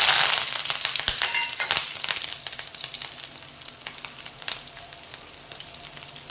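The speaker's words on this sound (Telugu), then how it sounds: "కొంచెం ఆవాలు, జీలకర్ర పోపు పెట్టుకోండి, కొంచెం మిర్చి, కరివేపాకు," Mustard seeds, cumin, dried chilli and curry leaves crackle and sizzle in hot oil, with sharp popping bursts early on that settle into a steady frying hiss close by.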